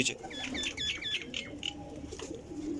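High-flying pigeons from a fancier's flock give soft cooing calls alongside bright, chirpy bird calls and a faint flutter of wings, steady and moderately loud outdoors, with a little talk in the background.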